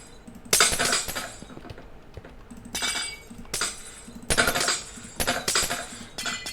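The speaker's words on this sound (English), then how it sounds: "if I remove all this glass, you'll be able to see what's going on here." Glass blocks are broken one after another in Minecraft Bedrock, producing a series of sharp, crisp shattering bursts at irregular intervals with quiet gaps between them and no speech.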